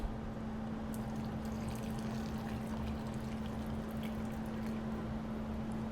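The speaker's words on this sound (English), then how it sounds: "we are supposed to take 3/4 cup boiling water and pour over these dates" Boiling water poured from a kettle over chopped pitted dates, a steady continuous splashing pour at low level with a constant hum beneath, no talking.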